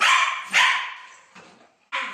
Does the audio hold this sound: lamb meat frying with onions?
no